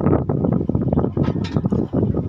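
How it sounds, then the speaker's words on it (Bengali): A hilsa fishing trawler heads out across the Bay of Bengal toward deep sea, its engine a close, pulsing rumble mixed with gusty wind buffeting the microphone. "বহু শত শত ট্রলার পাড়ি দিচ্ছে বঙ্গোপসাগরে, গভীর সমুদ্রে ইলিশ মাছ ধরতে চলে যাচ্ছে।"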